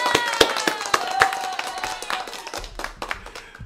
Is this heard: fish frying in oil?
no